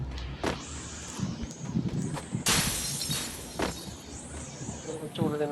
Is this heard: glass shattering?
yes